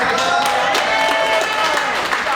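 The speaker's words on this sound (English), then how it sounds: "Give a round of applause for Charles over there." Audience applause at a live improv comedy show, a steady mass of clapping with cheers and voices mixed in throughout the short burst.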